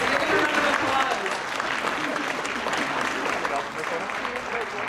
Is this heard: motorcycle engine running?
no